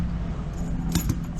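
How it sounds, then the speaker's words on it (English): Keys jangle on a ring, a couple of brief metallic clinks over steady background noise, with rain falling outside while cheap interconnected locks are being rekeyed. "Got their keys right here"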